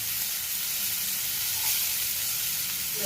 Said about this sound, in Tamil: ஒரு 2 ஸ்பூன் எண்ணெய், கடுகு சிறிதளவு போட்டுருவோம்.